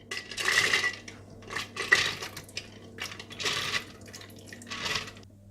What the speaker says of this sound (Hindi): तो सबसे पहले आप दालें डाल लीजिएगा